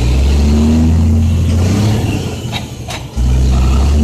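Cat C10 engine in a dump truck runs loud and steady, then the note dips and shifts as the Jake brake engages, before the heavy diesel drone returns strongly.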